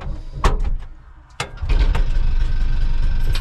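A Piaggio Ape three-wheeler engine coughs with a few sharp knocks and bursts, then catches and runs loud and close with a steady rough drone.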